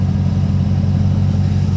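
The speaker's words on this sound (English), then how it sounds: "Listen to that exhaust." Ambulance engine idling steadily at close range with a rumbling exhaust, the steady low drone continuous and even throughout.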